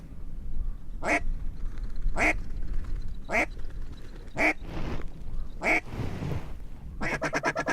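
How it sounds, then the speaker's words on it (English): Ducks quack in a series of sharp calls at a duck hunt, about six evenly spaced bursts close by, the last a rapid stuttering run, over faint outdoor background. "More ducks coming."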